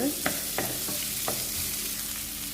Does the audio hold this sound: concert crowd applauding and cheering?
no